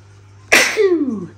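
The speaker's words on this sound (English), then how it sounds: "It sneezes." A single sharp sneeze from a Christmas Barbie toy, followed by a short descending electronic tone.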